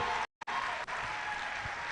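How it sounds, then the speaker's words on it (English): An audience applauds at an inaugural lecture, with steady dense clapping that fills the hall, interrupted by a brief cut near the start. "Keep clapping."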